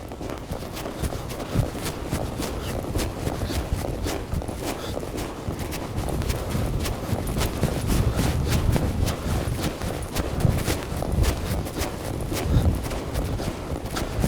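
Steady rhythmic hoofbeats from a horse at a counter canter while changing leads, continuous and fairly close throughout, with no talking.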